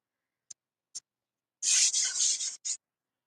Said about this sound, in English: so I'm going to just roll some icing out. Get my big trusty rolling pin.